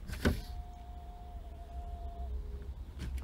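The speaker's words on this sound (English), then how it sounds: "So that's the brake booster vacuum pump." An ATE brake booster vacuum pump on a 2001-2009 Volvo S60 gives a steady electric whine for about two seconds, then cuts off, over windy outdoor rumble.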